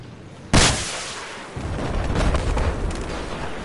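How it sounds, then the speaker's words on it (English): Gunfire in an online multiplayer shooter game: a sharp loud burst of a shot, then a dense, sustained crackle of rapid fire and rumbling blasts continuing to the end. "They're shooting at me."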